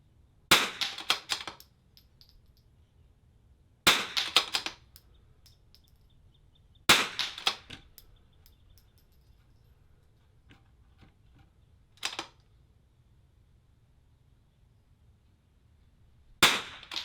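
Rifle shots at an NRL22 rimfire match stage, five sharp, separate reports a few seconds apart, each trailing briefly into the range, close and loud against quiet surroundings.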